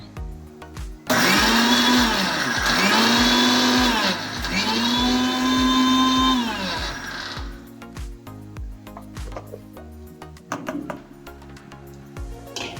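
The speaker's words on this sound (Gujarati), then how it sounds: "હવે આને આપણે પાછું મિક્સરમાં પીસી લેવાનું છે" A kitchen mixer grinder whirs loudly, grinding dabeli spice masala with red chilli powder, black salt and sugar. It runs in two strong bursts with rising and falling motor pitch, then cuts off, leaving quieter clatter.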